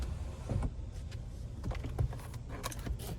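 A GMC Acadia Denali power seat motor whirs as the seat slides back, a steady close electric drone with faint clicks inside the cabin, nobody talking.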